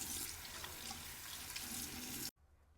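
Hands are washed under a running tap before handling contact lenses: a steady, close, full rush of water pouring into a sink that cuts off abruptly near the end, with no talking.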